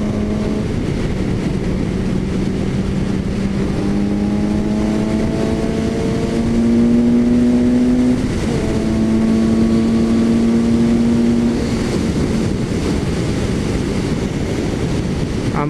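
A Suzuki GSX-S750A motorcycle engine revving up to about 8000 rpm, a loud close inline-four roar climbing in pitch through a gear change and rising again, with no talk.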